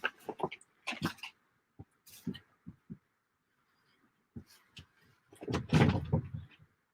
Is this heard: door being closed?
yes